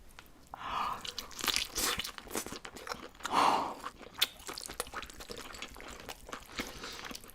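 Crunchy bites into a lobster tail seafood dish, with a few close, crisp crunches followed by soft chewing and faint wet sounds, with no talk.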